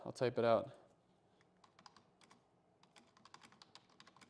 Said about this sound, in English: here, I'll type it out